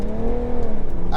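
A 370bhp BMW 335D diesel accelerates hard under boost, its engine note loud and steady with a rising drone throughout and no talking.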